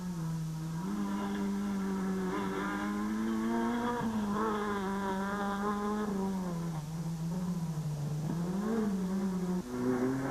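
Toyota rally cars racing at a dealer rally, a loud, close engine note rising and falling through gear changes and revs, with steady droning harmonics throughout.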